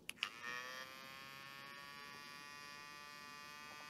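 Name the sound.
Hyderson battery mini grinder drill running at speed 1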